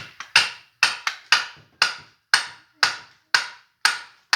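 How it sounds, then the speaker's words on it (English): Ball peen hammer striking a part on a Kz750 motorcycle engine during teardown: about ten sharp metallic blows at a steady, fairly quick rhythm, close and loud, with no talk. "You don't want to hit with the ball peen."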